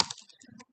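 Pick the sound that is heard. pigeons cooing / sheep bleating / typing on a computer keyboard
typing on a computer keyboard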